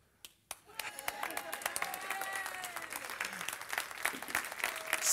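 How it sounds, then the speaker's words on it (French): A church congregation bursts into applause, starting with a few isolated claps and swelling into continuous, dense clapping that grows louder toward the end. "C'est pas moi que vous applaudissez,"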